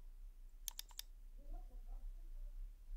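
Computer mouse left clicks on a PC: three sharp, quick clicks close together near the start, followed by faint low murmuring in a quiet room.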